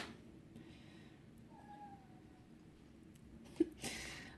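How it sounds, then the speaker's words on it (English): A hungry pet cat lets out a faint, drawn-out meow in a quiet kitchen, followed by a short louder sound near the end. "That's our cat. She's hungry."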